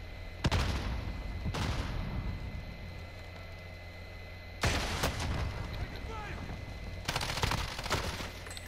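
Gunfire in a Call of Duty Warzone match: several sharp, loud bursts of shots ring out at intervals, with broadband crashes around the start and two heavier volleys later, over a steady game-ambience bed.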